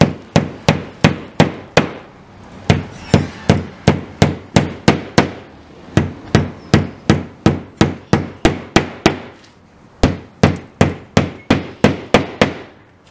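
A hammer strikes steadily, around thirty sharp, loud taps in an even rhythm with a couple of brief pauses, close by and with no talking.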